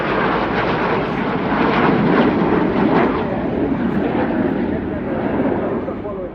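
Frecce Tricolori jets roar through a flying display at RAF Fairford's RIAT 2025 air show, a loud, broad, sustained rush of engine noise that swells and fades slightly, with a commentator talking over it.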